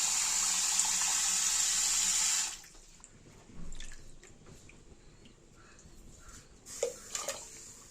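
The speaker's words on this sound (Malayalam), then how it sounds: "ഇനി മരിച്ചീനിയിൽ വെള്ളം എടുത്തുകൊണ്ടിരിക്കുവാണ്." Tap water runs loudly and steadily to wash tapioca (cassava) in a home kitchen, then cuts off after a couple of seconds, leaving faint drips and soft wet handling sounds.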